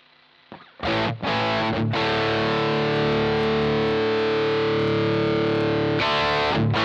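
Electric guitar played through a Way Huge Camel Toe distortion pedal, loud and close, with a few short choppy hits followed by a long sustained, saturated chord that rings out before another strum at the end.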